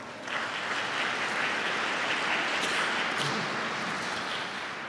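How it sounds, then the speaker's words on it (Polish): An audience at a Polish concert evening, where Dittersdorf's Requiem is performed, applauds its local government officials, broad continuous clapping that swells in quickly and holds steady before easing slightly at the end. "Brawa dla naszych władz samorządowych."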